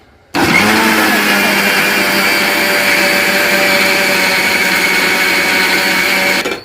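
A mixer grinder blending tomato pickle starts abruptly and runs steadily at a loud, high whine for several seconds, then cuts off near the end.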